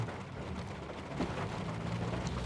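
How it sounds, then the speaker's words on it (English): Steady rain falls on a Chicago street along Route 66, a continuous hiss with low rumble, moderately loud and unbroken throughout. "Got the rain going on in the background."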